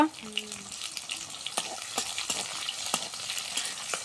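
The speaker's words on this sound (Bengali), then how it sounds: "জিরা, রসুন আর পেঁয়াজ এবার সুন্দর করে লাল লাল করে ভাজে নিব।" Cumin, garlic and onion frying in a pan, a steady crackling sizzle with sharp spattering pops scattered throughout, close and moderately loud, with brief stirring and clinks of a utensil.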